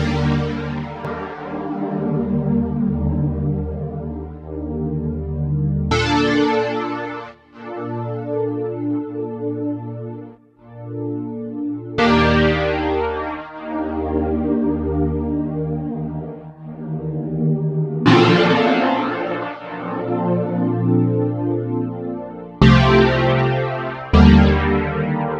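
Lush chords from the Synapse Audio Obsession synthesizer in ensemble mode, struck and left to decay, each new chord entering with a bright attack, layered and shimmering, no voices.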